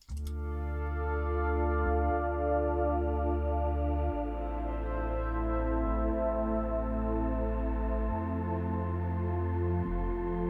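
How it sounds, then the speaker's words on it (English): Deep bass notes stepping through slow changes under a warm, pleasant synth pad in the bridge of an electronic track, smooth and sustained with no voices. "I'm going to start with the bass and this really pleasant sounding pad."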